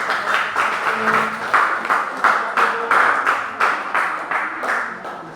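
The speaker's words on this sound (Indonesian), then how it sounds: "berikan aplaus" A group of students applauds after a classroom presentation at a teacher-training session, giving steady, rhythmic clapping that rises and falls in even pulses for several seconds, with no talking over it.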